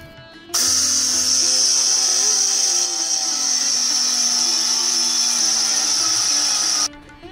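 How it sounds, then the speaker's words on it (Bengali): An electric grinder grinds sesame seeds in a grinder jar, a loud, steady, high-pitched motor whine that starts abruptly, runs for about six seconds with slight changes in pitch, then cuts off. "আমি এটাকে এখন পিষে নেব। একটা গ্রাইন্ডার জারে নিয়ে নিচ্ছি।"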